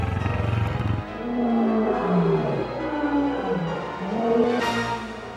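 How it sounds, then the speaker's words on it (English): A deep, rumbling roar from a large wild cat, sustained and loud, rising and falling in several drawn-out waves with no talking. "Imagine our fright when in the darkness we heard the roar of a wild beast"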